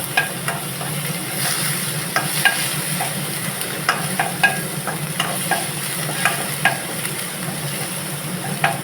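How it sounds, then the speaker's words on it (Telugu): Ginger-garlic paste sizzling and frying in a kadai while a spoon stirs it, a steady close hiss punctuated by repeated scraping clinks every half second or so, with no talk. "ఇదే కడాయిలో ఒక స్పూన్ అల్లం వెల్లిగడ్డ వేసి పచ్చి వాసన వచ్చే వరకు కలుపుకోవాలి."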